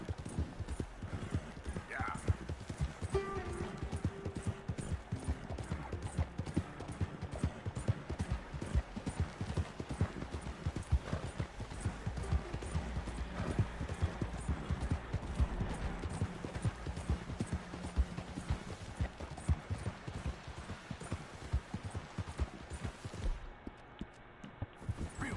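Horse hooves clip-clopping steadily in Red Dead Redemption 2 as the horse climbs a windy mountain slope, a continuous rhythmic plod under a speaking voice.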